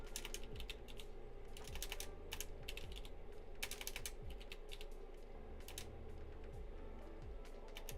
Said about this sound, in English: Am I typing it wrong?